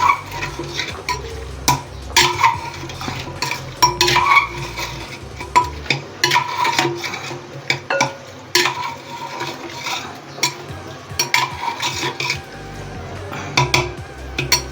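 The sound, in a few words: stirring and mixing masala into mutton in a handi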